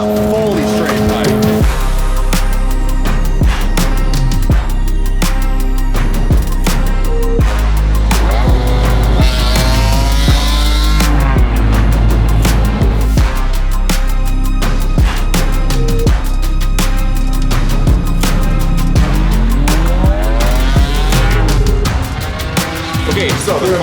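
Ferrari 550 V12 with its exhaust hacked off but catalytic converters still fitted, revving loudly and repeatedly with sharp rises and falls, its raw, raspy tone close and constant.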